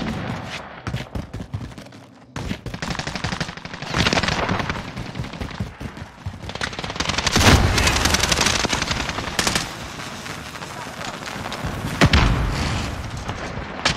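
Hostile gunfire and explosions in a Call of Duty Warzone Payload match, loud bursts of machine-gun fire with heavy booms and pauses between volleys, close and intense throughout.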